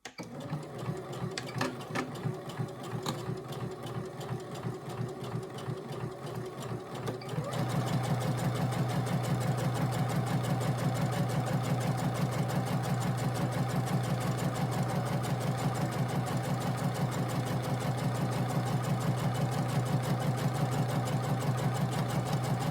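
Sewing machine stitching the first seam of a fabric scrunchie, starting with slower uneven clattering, then settling into a loud, fast, steady mechanical whir that runs continuously close by.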